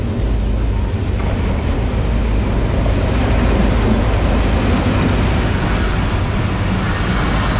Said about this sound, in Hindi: आ चुकी है डिगरोड रेलवे जंक्शन पे, और अब हम जा रहे हैं इसमें सवार होने के लिए